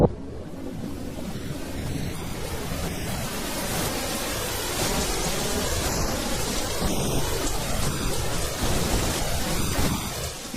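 A heavy tropical downpour from Cyclone Ida over far north Queensland, with steady loud rain hissing throughout and thunder rolling underneath, with no voices.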